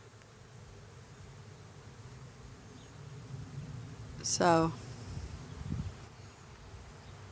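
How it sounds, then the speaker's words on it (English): Honey bees buzz faintly in a South Carolina bee yard of about nine hives, a low steady hum under the outdoor air, with a brief louder buzz passing close by and a short spoken word. "And there's the bee yard."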